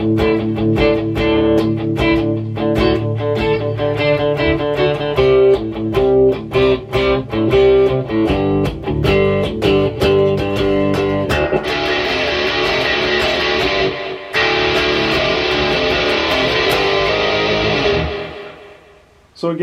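Electric guitar played through a Spark amp, loud distorted strummed chords and riffs, with a brighter, heavier section near the end before cutting off.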